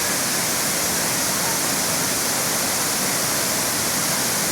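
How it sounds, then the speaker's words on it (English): Burney Falls in northern California roars up close, a dense, unbroken rush of falling water filling the whole clip at constant loudness. "just an absolutely impressive waterfall"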